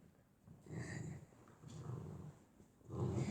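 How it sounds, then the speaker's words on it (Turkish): A dog growls in three low, rumbling bursts, close by and fairly quiet, with short pauses between them. "Yani şu an köpek geldi bizim yanımıza"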